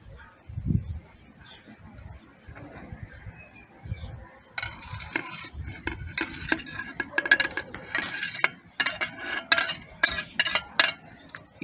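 Chopped strawberries being stirred by hand into a strawberry sorbet mixture, with a quiet start followed by repeated scraping and clinking strokes against the bowl that grow louder and more rhythmic in the second half.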